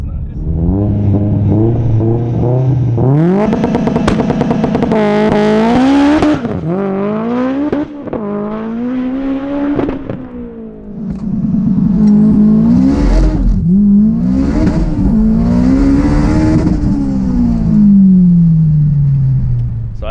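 A 900HP Mitsubishi Evo X running 44 PSI of boost with all-wheel drive revs hard and launches on the street, its engine climbing through repeated loud rising and falling pulls, close and continuous with no talk.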